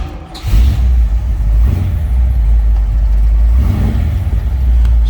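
A 1962 Chevrolet Impala SS two-door hardtop engine with a fresh engine build cranks briefly and catches, then settles into a loud, steady, deep-throated idle with slight surges, close up and alone.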